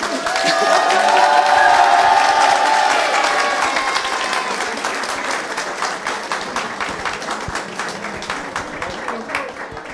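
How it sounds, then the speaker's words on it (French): A large crowd applauds and cheers for goalkeeper Hugo Lloris, loud and sustained at first, then easing into steady clapping with whoops, a host's voice heard over it early on. "Vous pouvez l'applaudir encore une fois"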